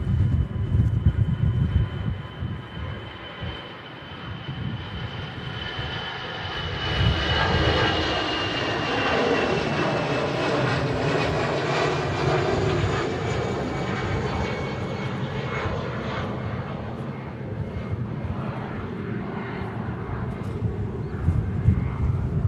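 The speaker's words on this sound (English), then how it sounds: "Emirates triple now lining up on 23 right for the departure" An Emirates Boeing 777 sits on the runway at Manchester Airport, its jet engines holding a loud, steady roar with a rising whine that swells and lingers, heard from nearby.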